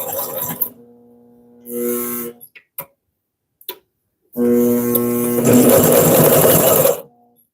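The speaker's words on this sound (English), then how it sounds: "that actually sewed through that pretty easily" A Consew CP206RL industrial sewing machine stitches through a handbag in short bursts, a few brief runs and clicks, then a longer loud, steady stretch of rapid stitching close by.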